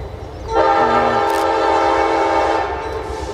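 A Norfolk Southern freight train blows its horn as it passes close by, a loud sustained multi-tone chord lasting about two seconds over a steady rumble of rolling cars.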